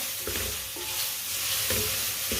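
Carrots sizzling in a pan as they fry, with a dense steady hiss and a few soft stirring knocks, close and continuous.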